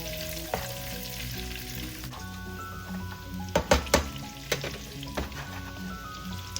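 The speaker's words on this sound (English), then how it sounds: "we're gonna start browning our garlic before we add in our shrimp" Garlic browning in butter in a pan over medium-high heat, a steady close sizzle joined by a few loud clanks and scrapes of a utensil against the pan partway through.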